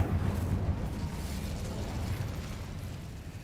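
Incendio fire spell blasting in the Hogwarts Legacy video game: a dense, loud, rushing roar with a heavy low rumble that holds steady for several seconds and fades slightly toward the end.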